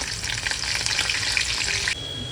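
Crushed garlic and a few curry leaves crackle in hot oil, a dense, close, steady sizzle that drops in intensity slightly near the end.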